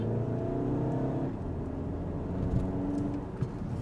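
A Volkswagen Golf GTD diesel revs steadily while driving, a close, continuous engine drone that rises and falls under load with faint road noise, no voices over it.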